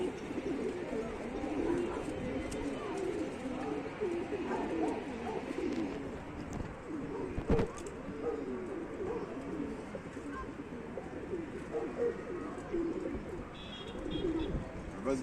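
Pigeons coo continuously in a loft, a dense layer of overlapping soft throaty calls close by, steady throughout with a sharp knock partway through and faint chirps near the end.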